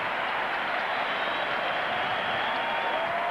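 Crowd noise at a 1992 Bulls–Knicks playoff basketball game as Patrick Ewing limps to the bench, a continuous broad roar of an arena audience, steady and moderately loud throughout.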